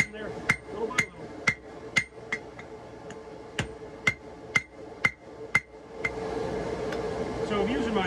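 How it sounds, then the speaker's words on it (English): Sharp metallic hand-hammer blows ring out in a steady rhythm, about a dozen strikes forging steel on an anvil, then give way to a louder rumbling background. "So I've just resorted to using a hand hammer."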